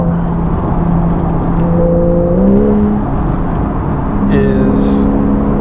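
A naturally aspirated engine in a Porsche 911 GTS hums and whirs steadily from inside the cabin, rising and falling in pitch with gear changes, with a brief chirp near the end.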